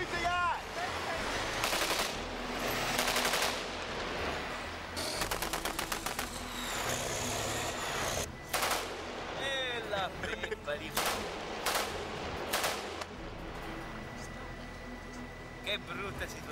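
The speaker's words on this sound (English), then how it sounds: "Who are you shooting at?" Gunfire near a house, bursts of rapid machine-gun shots and heavier booming reports recurring over sixteen seconds, with people shouting and talking amid the shooting.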